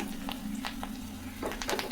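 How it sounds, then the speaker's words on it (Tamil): Hot ghee crackles and pops in a pan while tempering for pongal, with scattered sharp spits over a low steady sizzle, close and fairly quiet. "நல்லா பொரியுது பாருங்கள்"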